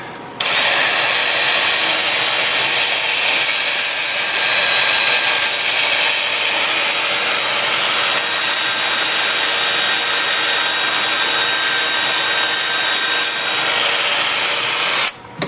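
A 2-inch sanding disc works over a turned wooden bowl, giving a loud, steady broadband whir and rub that runs continuously for about fifteen seconds with no talking.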